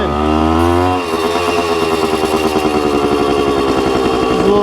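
Suzuki TC-90 motorcycle two-stroke engine revving loudly up close, a rising rev in the first second then settling into a steady, buzzing idle with rapid, regular pulsing throughout.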